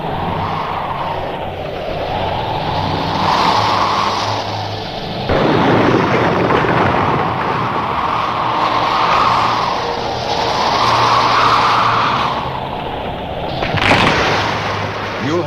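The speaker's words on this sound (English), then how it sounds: "The blast wave travels at about the speed of sound. Wait until it has passed before you get up." Atomic blast wave rolls past in a 1957 army training film: a sustained, heavy roaring rumble surges and swells, with a sharp louder burst midway and a later flare as the wind-like roar continues.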